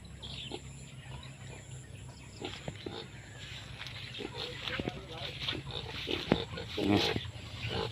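Pigs grunt softly at a Nepali farm while they feed on cut grass fodder and rest. The grunts are scattered and low, with a person talking over them and birds faintly in the background.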